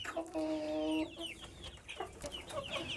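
Newly bought hens of new breeds cluck nearby, with one drawn-out call followed by scattered short clucks from the flock.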